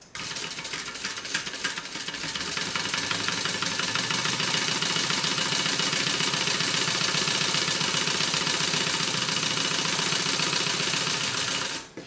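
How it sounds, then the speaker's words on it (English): A sewing machine top-stitches a bag pocket closed with an eighth-inch seam, running in one loud, continuous, rapid mechanical chatter that starts up and stops abruptly. "I'm just going to top stitch this closed, just using an 1/8 of an inch seam allowance"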